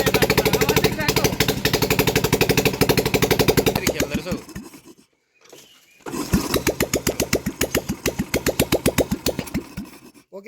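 A Royal Enfield Bullet engine, just back together after a cylinder head repair, thumps loudly in a fast, even rhythm. It cuts out briefly, then restarts and settles back into its steady pulsing beat.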